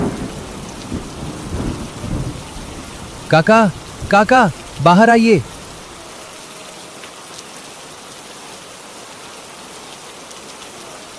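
Steady rain falls with low rumbles of thunder in a village setting, strongest early on, while a voice calls out briefly in the middle before the downpour settles into a quieter, even hiss.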